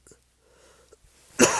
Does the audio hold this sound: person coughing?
yes